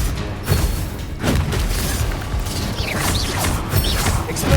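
A Confringo spell blast in Hogwarts Legacy: loud, dense booming crashes and mechanical rumbling that surge and sustain with little pause, close and heavy.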